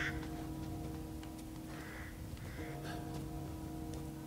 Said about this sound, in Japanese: カラスがいる。